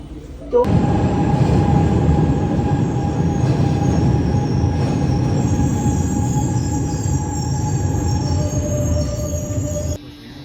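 Metro train in Italy running underway, a steady loud rumble of wheels and carriage with faint high squealing tones, starting abruptly and continuing evenly throughout before cutting off near the end.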